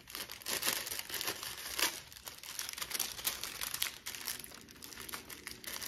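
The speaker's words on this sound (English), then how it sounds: "But you just rub this wax paper, which will do a little bit of tarnish removal along your zipper tee." Wax paper rubbed along the zipper of a vintage leather Coach coin pouch gives a close, soft, continuous crinkling and rustling with quick scraping strokes, fairly quiet throughout.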